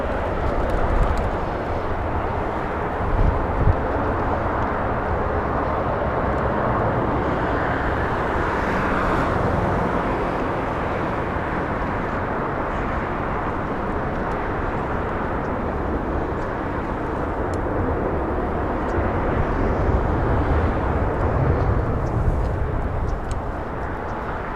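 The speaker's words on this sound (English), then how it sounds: "A 737 NG flying to Minneapolis." Delta Boeing 737 NG jet at LAX, flight 799 bound for Minneapolis, gives a steady, loud broadband engine roar that holds with little change throughout, blended with distant roadway traffic and no talk.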